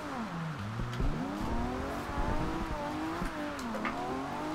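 A Nissan Skyline 2000GTR drifting in the racing game Forza Horizon 2: a continuous engine note rises and falls with revving and shifts, with tire squeal mixed in throughout. No one speaks.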